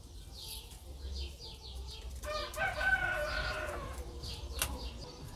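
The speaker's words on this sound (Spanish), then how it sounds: "Pajaritos, los gallos, los perros. Aquí se escucha de todo." A rooster crows once in the middle, fairly clear, with birds chirping and faint background voices around it.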